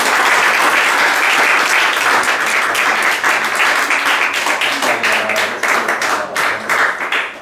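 Sustained loud applause from a church congregation praising the Lord at a worship service, dense rapid clapping that holds steady and thins slightly toward the end, with a few voices faintly underneath.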